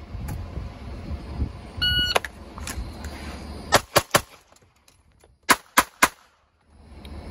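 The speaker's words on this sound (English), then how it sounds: "I'm gonna shoot two rounds on the target on the left, transition two rounds on the target on the right." Handgun shots fired from inside a vehicle during a seated shooting drill, a loose group of sharp, loud cracks in quick pairs and triplets, with some rustling and movement in the car between them.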